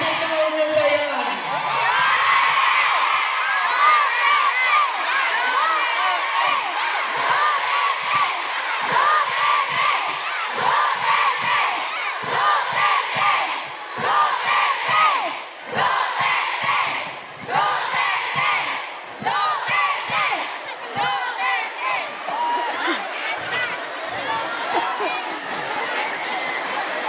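A large crowd at a political speech in Hong Kong shouts and cheers loudly and continuously, with whoops and rallying cries surging and dipping over nearly half a minute, close and dense.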